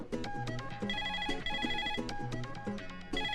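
A mobile phone ringtone plays a repeating melodic electronic tune in a movie scene, steady and clear throughout with no voices over it.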